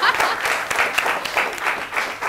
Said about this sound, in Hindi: मधुर तालियां।